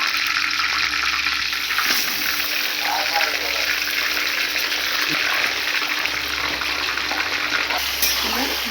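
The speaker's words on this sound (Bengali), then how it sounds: "তো আমরা বন্ধুরা বিরিয়ানি বানাচ্ছি, সেই জন্য দেখুন তেল চাপিয়ে দিয়েছি। এবার দিয়ে দেবো মাংস।" Meat dropped into hot oil for biryani, giving a steady loud broad sizzle that runs the whole time with some voices underneath.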